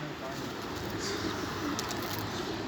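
Pigeons cooing softly on a high rooftop amid steady outdoor background noise, with a faint voice mixed in.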